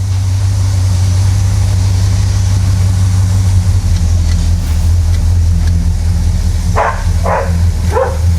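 A Le Mans car's engine idles after a brake repair, a steady low hum running close throughout, with three short dog barks near the end.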